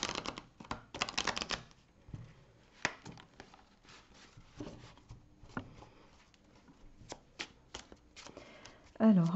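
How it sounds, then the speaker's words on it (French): Tarot cards being shuffled by hand in a series of soft, papery riffles and slides, close and fairly quiet, with brief pauses between bursts and a louder thump near the end. "je vais d'abord tirer une carte d'énergie principale pour votre mois avec le tarot psychique"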